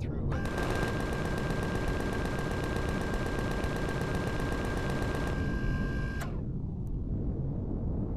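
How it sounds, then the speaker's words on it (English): A weapon in the video game Empyrion Galactic Survival fires a long burst of rapid automatic shots at blocks. The loud, evenly spaced rattle continues for several seconds, then stops abruptly, leaving a faint hum and a single click. "we just need to like shoot through one of these blocks"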